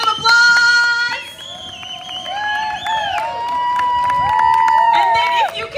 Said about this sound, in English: All right, and one more big round of applause.